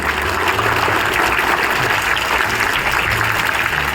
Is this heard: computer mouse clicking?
no